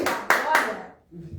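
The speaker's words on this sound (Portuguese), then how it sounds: "as palmas para o Senhor Jesus nessa noite" A church congregation claps for the Lord during an evening worship service, giving a loud, dense burst of clapping that fades within about a second before a voice begins.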